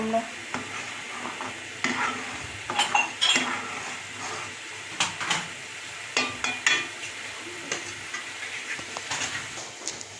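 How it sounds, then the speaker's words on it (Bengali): Vegetables for a chicken soup, with chopped ginger and garlic, are stirred in a pot over a steady low sizzle, with repeated clinks and scrapes of a utensil against the metal coming and going throughout. "আমরা এখন ভেজিটেবল দিচ্ছি। এই ভেজিটেবলগুলো একটু নেড়ে চেড়ে নিব"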